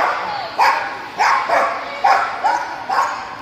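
A border collie barks repeatedly at a winter disc dog event, five sharp mid-pitched barks at roughly half-second to one-second intervals, close and clear over a quiet background.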